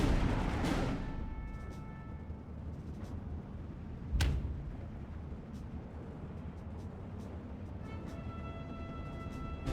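Incoming fire in a video game: a deep booming blast opens, then a sharp crack partway through, with a low rumble and scattered metallic pings throughout.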